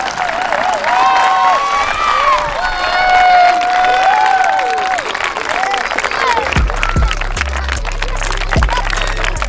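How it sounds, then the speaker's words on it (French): Audience applause at a partnership signing ceremony between Olympique de Marseille and a local club, a sustained crowd clapping with some cheering, while a voice carries over it and a few low thuds sound near the end. "je pense qu'on peut tous les applaudir"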